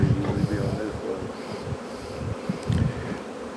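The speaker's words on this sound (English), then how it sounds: "Oh yeah, a lot of bees." Dense buzzing of many honey bees piled together in an open hive while a swarm cell split is worked, loud and close, with brief low thumps and faint talk underneath.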